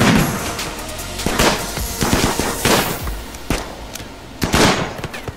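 Rapid bursts of gunfire crackle through a battle in the colony-management game Rimworld, with dense overlapping volleys, some sharper single shots and a louder flurry near the end, with no talking.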